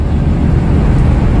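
A Toyota Kijang LGX cruising on a busy city toll road in fifth gear, its engine and road noise forming a loud, steady in-cabin drone with no talk over it.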